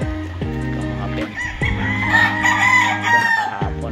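Roosters at a game farm in Tanay, Rizal crow loudly and close, several long, overlapping calls one after another, with clucking and other fowl noises behind them.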